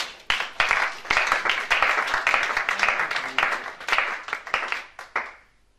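A congregation at a French-language church service applauds the Lord, sustained loud clapping from many hands with a few shouts, carrying on for several seconds before fading out.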